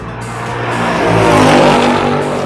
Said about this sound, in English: opening up the soundtrack using the active valve exhaust system makes it really come to life.